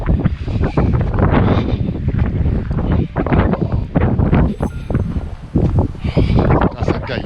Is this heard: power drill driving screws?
no